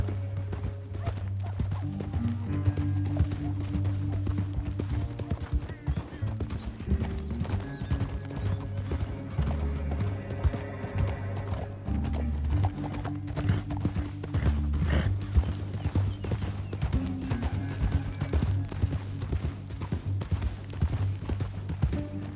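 Horses' hooves clip-clop steadily at a trot in Red Dead Redemption 2, with an occasional neigh rising over a sustained low game soundtrack, continuous and fairly close.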